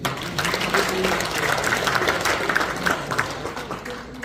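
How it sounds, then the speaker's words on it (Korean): Moderate applause from a small audience at an association's officer inauguration ceremony, an uneven patter of clapping that swells slightly and then tapers off, with a faint murmur of voices underneath. "박수 한번 주시죠"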